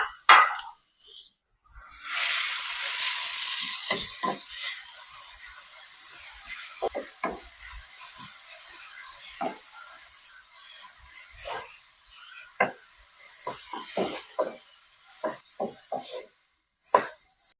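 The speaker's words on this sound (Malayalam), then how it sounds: "കറിവേപ്പില, നമ്മൾ എടുത്ത് വെച്ചേക്കുന്ന പാവയ്ക്ക അരിഞ്ഞതും ഇട്ടിട്ട് ഒന്ന് നന്നായിട്ട് വഴറ്റണം" Chopped bitter gourd and curry leaves hit a hot pan in a Kerala kitchen with a sudden loud sizzle, then settle into scattered scraping and stirring sounds as the mixture is sautéed.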